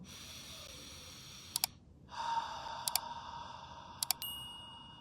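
During a breathing exercise, a person inhales and then lets out a long, audible breath through the mouth, close and quiet, with a few sharp clicks around it.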